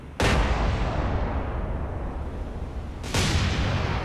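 The battleship New Mexico's main guns fire in a naval video game, two heavy booming salvos about three seconds apart, each followed by a long, loud rumbling decay.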